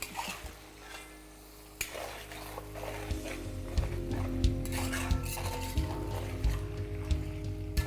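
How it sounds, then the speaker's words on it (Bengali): Mutton being stirred in a pan over high flame, scraping and clinking of a spoon against metal over a steady low frying sizzle, fairly faint and close. "এই মাটনটাকে আপনাদের ততক্ষণ মেশাতে হবে যতক্ষণ না মাটনের কালারটা একটু ব্রাউন হয়ে যাচ্ছে"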